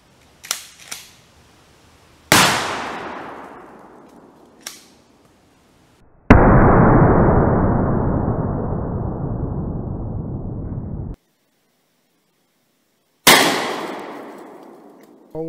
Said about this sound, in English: Any high-powered rifle and most handgun cartridges should suffice.